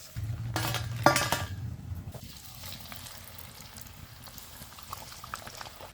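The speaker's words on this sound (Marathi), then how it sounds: "अशा कलरवर सगळ्या पुऱ्या तळून काढा" Bajra methi puris, pearl millet and fenugreek flatbreads, deep-frying in hot oil, with a busy bubbling fizz, a few clinks of utensils near the start, then a softer steady simmer.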